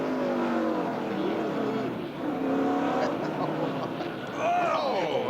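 Winston Cup stock car engines from the 1998 GM Goodwrench Service Plus 400 at the Rock whine and rise in pitch as cars accelerate and pass. A commentator talks over the steady engine roar.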